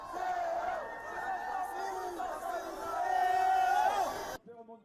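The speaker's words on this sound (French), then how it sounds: "ils ont dû fendre une foule euphorique" A euphoric crowd of Castres Olympique rugby supporters cheers and chants loudly in a sustained swell of voices, with rising shouts before an abrupt cut to quieter sound.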